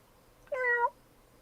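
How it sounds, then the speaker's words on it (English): A single clear cat meow, rising and then falling, stands alone against a quiet room for under half a second. "Stop meowing."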